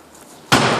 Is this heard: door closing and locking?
yes